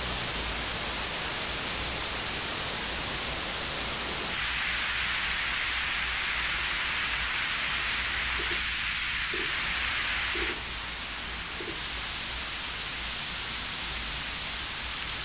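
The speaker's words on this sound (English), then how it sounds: "Let's try white noise, which makes it significantly more difficult" White noise plays as a test signal in an ear training game, a loud continuous hiss throughout, with its tone shifting brighter for a stretch in the middle and a few faint low blips underneath.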